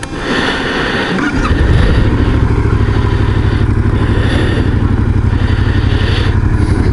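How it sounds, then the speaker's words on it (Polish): A motorcycle engine, a Benelli BN125 or Yamaha MT-07, catches with a clatter and settles into a loud, steady rumble that carries on without a break. "Ty możesz zapalić silnik i jechać."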